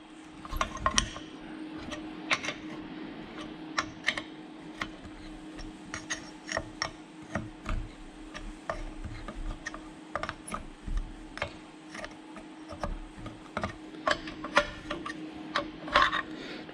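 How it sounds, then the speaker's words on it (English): A spanner turns on the Brembo brakes of a Ford Capri 2.9 Cosworth twin turbo, giving repeated light ratcheting clicks and metallic ticks in an irregular rhythm, close and fairly quiet with no talk. "how hard it is to hold the camera with one hand and turn the spanner with the other"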